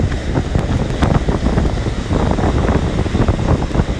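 Stormy sea surf pounds a Sochi beach during a storm with rain and wind, a steady, loud, broadband roar of breaking waves and gusting wind with no let-up and no voices.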